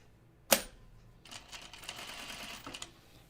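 A home sewing machine stitches around the collar of a top, starting at the center back neck: a sharp click, then a quick buzzy run of close, even stitching, near and fairly quiet.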